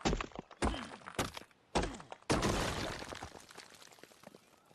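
Crafting a mortar and pestle in Ark produces a series of four or five sharp thunks at irregular intervals, the last one followed by a longer crunchy rumble that fades out, close and without speech.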